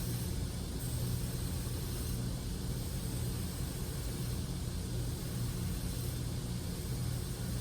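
A grinder running a 10-inch wheel for hollow grinding a knife blade, a steady loud broadband whir with a constant low hum, unchanging throughout and with no voices.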